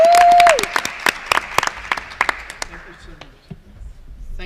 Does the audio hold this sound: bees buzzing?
no